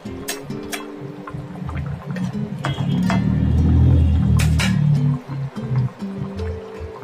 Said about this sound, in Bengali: ভালো করে ফুটিয়ে নিচ্ছি মাছ দিয়ে।